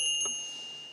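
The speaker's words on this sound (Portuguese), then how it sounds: "Um sino." A small metal bell held up in a primary-school science lesson gives a single bright ding that rings on and slowly fades.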